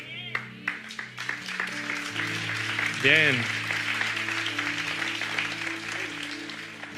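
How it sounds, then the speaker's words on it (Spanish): A church congregation applauds during a Spanish-language sermon, a steady wash of clapping that swells briefly and carries on beneath a voice as he keeps speaking. "si aplauden es porque están entendiendo"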